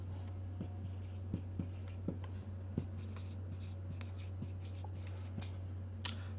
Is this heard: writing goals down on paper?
yes